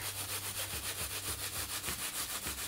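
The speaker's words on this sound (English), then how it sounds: "So you're making your fabric yourself and you see as I rub harder, it was starting to mat together" A gloved hand rubs wool cloth during wet felting, a fast, steady back-and-forth swishing friction repeated many times in a close, even rhythm.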